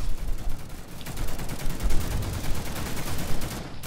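Rapid gunfire from The Mean Greens video game crackles in dense, continuous bursts with sharp cracks, loud and steady for the whole stretch, with no talking over it.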